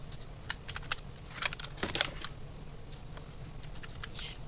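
Typing on a computer keyboard, a quiet run of light, quick clicks in short bursts over faint room noise, with no voices.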